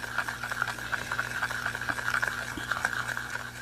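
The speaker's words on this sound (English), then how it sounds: "certain sounds like this, like the mixing" Acrylic paint being stirred and mixed for mandala dot painting, a steady close scraping and swishing texture with a constant faint hum underneath and no talking.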